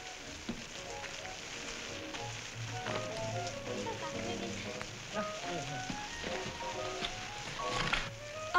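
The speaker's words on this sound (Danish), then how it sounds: "Nu regner det igen." Rain patters and hisses on a surface near a seaside bathing hotel, with scattered drips and faint clatter and thumps around it, and no clear speech.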